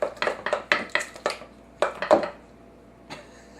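A utensil knocks and scrapes against a bowl while thick tomato pie sauce is mixed by hand, a quick run of rhythmic clinks, a short pause, then a few more strokes, close and fairly crisp.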